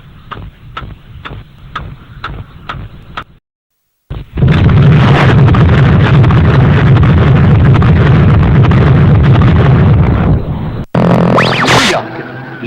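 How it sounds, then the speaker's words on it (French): The first French atomic bomb test from an archival newsreel: a steady ticking countdown, a brief hush, then a loud, sustained, rumbling blast roar that lasts several seconds before cutting to a different sound. "la minute solennelle de la première explosion atomique française"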